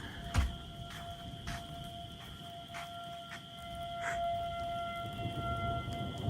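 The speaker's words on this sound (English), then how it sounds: "That's a tornado siren." A tornado siren wails steadily in the distance, a sustained high tone holding throughout, with occasional sharp clicks and faint background noise but no talking.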